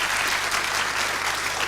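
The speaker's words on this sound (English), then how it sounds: "I thank our audience for that spontaneous round of applause" A studio audience at a panel game show breaks into dense, sustained applause, a continuous wash of clapping with no voices standing out.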